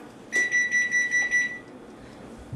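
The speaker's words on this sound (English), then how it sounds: "that wasn't the timer, that was the oven. It's preheated." A kitchen oven signals that preheating is done with a rapid run of about six shrill electronic beeps, clear and close, over quiet room tone.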